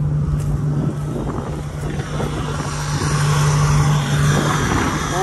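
A Ford Power Stroke Super Duty turbo diesel running after a cold start, a steady, loud low rumble with a constant drone and a faint turbo whistle, heard alone without voices.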